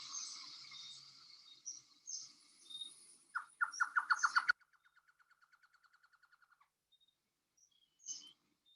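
A trogon calling in the Yucatan Peninsula gives a quick series of evenly spaced hooting notes, followed by a fainter, softer run of repeated notes, with other bird chirps scattered around it outdoors.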